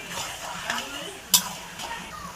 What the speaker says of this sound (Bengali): কিছুক্ষণ পর পর এটাকে ভালোভাবে নাড়তে হবে।